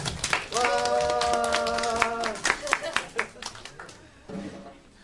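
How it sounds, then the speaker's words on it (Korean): A youth congregation at a church service claps, scattered sharp hand claps mixed with a sustained tonal sound and talk, the clapping thinning into isolated claps toward the end. "우리 큰 박수로 환영해 주시기 바랍니다"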